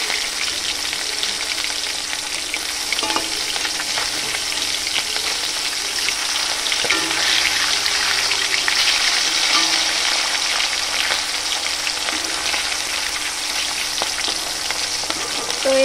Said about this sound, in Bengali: মাছগুলো হালকা করে ভাজবো বলেছি, তো সেই জন্য বেশি ভাজবো না, উল্টে দেবো